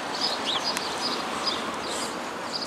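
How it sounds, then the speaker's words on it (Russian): Small birds sing and chirp outdoors during a spring walk near a museum, with brief high twittering phrases repeating over a steady outdoor background. "Ой, тут птички поют."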